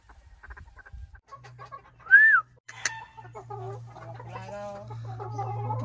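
Chickens on a game farm cluck and call close by, with a short loud crowing or squawking burst near the middle over a low steady hum, and no talking.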